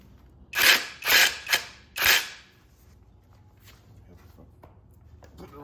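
A socket ratchet works on bolts holding a cover on a John Deere 425 garden tractor during flywheel removal, giving four sharp, close clicking bursts in quick succession followed by quiet shop ambience.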